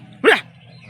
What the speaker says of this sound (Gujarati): આ બસ કૂતરો રડવા માંડ્યો છે.